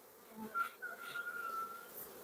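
Honeybees hum in an opened hive during an April inspection of new foundation frames, a faint steady drone with one insect's buzz rising and falling up close for a couple of seconds.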